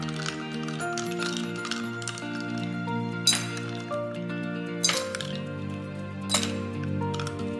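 Sugar cubes dropped into a glass while making dalgona coffee, a few sharp clinks and knocks spaced seconds apart over a steady background tone.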